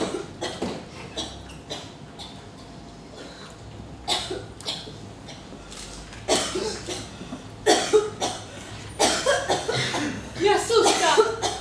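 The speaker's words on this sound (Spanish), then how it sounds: "Es la tercera vez que tose." Someone coughs repeatedly in sharp, rough bursts, several close together, with muffled voices and a bit of chuckling in between.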